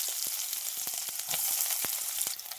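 Small onions fry in hot oil for a fish curry with a steady, close sizzle, punctuated by scattered sharp crackles and a few light taps.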